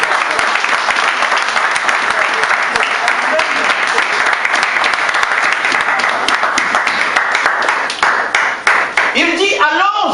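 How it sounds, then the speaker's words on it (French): Church congregation applauding during an evening service, a dense sustained wash of clapping from a crowd that carries throughout and thins near the end. "Si tu es parmi nous, tu peux acclamer."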